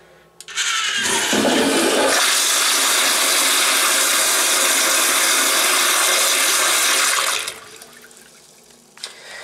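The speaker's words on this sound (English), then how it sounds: "I don't think that one's going to flush. American Standard seems to be a replaced toilet" An American Standard toilet in a school building flushes loudly with a strong rushing swirl of water for about seven seconds, then drains off and trails into quieter refill noise.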